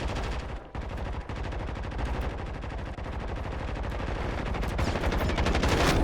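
Dense, continuous automatic gunfire in the battle-royale shooter Warzone, rapid overlapping bursts close and loud that fill the whole stretch with little pause.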